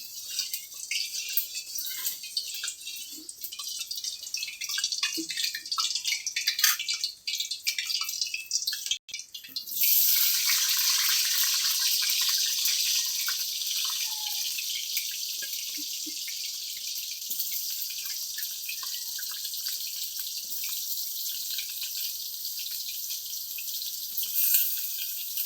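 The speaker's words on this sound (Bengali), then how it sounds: "তেল গরম হয়ে গেছে, একটা আওয়াজ হচ্ছে।" Hot cooking oil sizzling in a pan before potatoes are fried, a steady bright hiss throughout that jumps louder partway through and stays strong, with small crackles and no talking.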